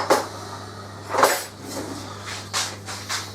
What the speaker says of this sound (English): so you need to give it a good stir now